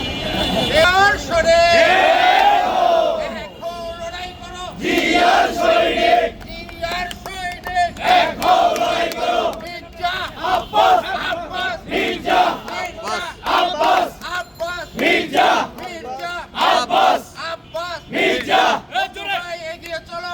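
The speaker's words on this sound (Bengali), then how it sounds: "আব্বাসের নামে একটু স্লোগান হবে, আমাদের মহানগর নেতার নামে স্লোগান হবে, আর থানা নেতৃবৃন্দ নামে স্লোগান হবে" A crowd at a political party rally in Dhaka chanting slogans in loud call-and-response waves, with one leader's voice shouting lines and massed voices answering in steady rhythm, recurring throughout.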